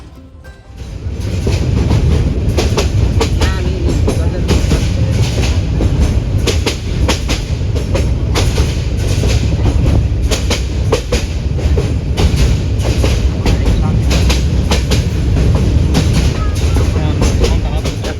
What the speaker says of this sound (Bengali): আমাদের ট্রেনটি আবারও যাত্রা শুরু করে তার পরবর্তী স্টেশন ভাওয়াল